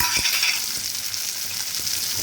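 Tomatoes go into a pan of frying garlic and onion with ginger for a cauliflower kurma, setting off a bright, hissing sizzle with a few soft stirring knocks, close and steady for a couple of seconds.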